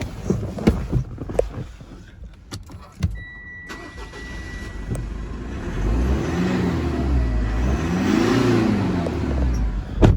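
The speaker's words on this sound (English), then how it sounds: "Might turn over the vehicle, give it a bit of a rev" A Mitsubishi Pajero Sport is cranked and fires up after a few clicks and clunks, then settles into a close idle before two rising revs swell and fall back.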